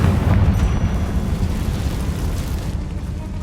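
A Confringo spell explosion in the Hogwarts Legacy video game, a dense, rumbling boom with a heavy low roar that fills the whole moment and slowly tapers off.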